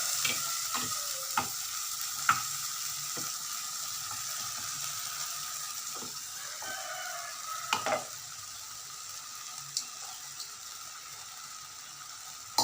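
A pot of sambar simmers with a soft, continuous sizzling bubble, broken by scattered light clicks and taps close by.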